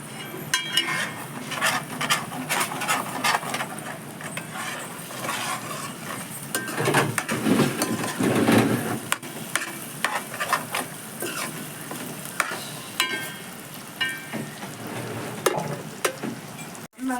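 Egg and chicken fry in a pan for chicken egg fried rice, sizzling steadily up close while a utensil stirs and scrapes against the pan in frequent bursts, with no talking.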